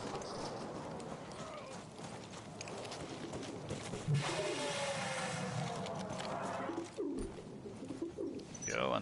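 Pigeons coo in Battlefield 1 gameplay, soft repeated calls over a steady game background with hoof-like clip-clop from a horse; someone talks intermittently throughout.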